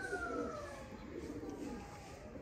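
Breeder pigeons in a loft give low, soft coos that come and go over a faint steady background, with no talking.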